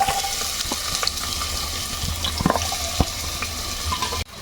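Sliced onions (two) frying and being stirred in a pan for a gongura mutton curry, with steady sizzle and sharp clinks and scrapes of a spoon against the pan, close and loud with no talking.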